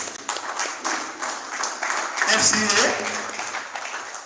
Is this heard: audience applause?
yes